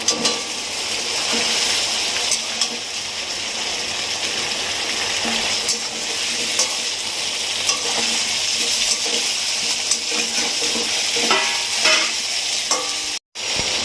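Pieces of fried pointed gourd go into a loudly sizzling pan of hot oil for a fish and potato dish, giving a dense, continuous frying hiss with occasional scrapes and clinks of stirring.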